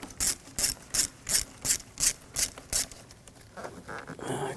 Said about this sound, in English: Using a 7mm socket, loosen up this clamp.